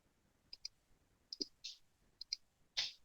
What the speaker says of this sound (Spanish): damos clic en insertar cita